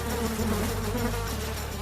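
A swarm of bees buzzes loudly and continuously in a dense, droning hum, used as a sound effect in a told story, with no talk.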